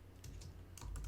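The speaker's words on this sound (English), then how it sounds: "I'm going to type in" Soft, quick keystrokes on a computer keyboard, a handful of faint taps within about a second, close-up and quiet with no talk.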